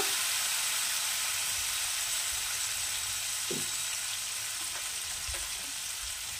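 A pan of Bengali mustard fish curry with pabda fish sizzles steadily while being stirred, a continuous close frying hiss with a few soft scraping knocks of the spoon.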